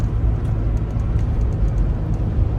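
A 1986 Porsche 944 with a 5-speed gearbox idles and runs from inside the cabin, a dense, steady low rumble with no clear revving, lasting the whole short stretch without talk.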